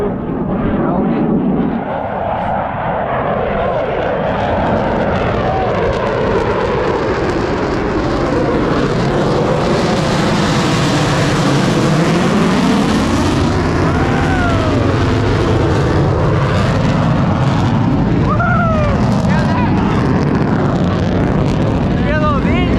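Fixed-wing aircraft engines roar loudly overhead at the Huntington Beach Airshow, heard from a boat, with a sweeping pitch as the plane passes close, under steady wind noise and excited talk.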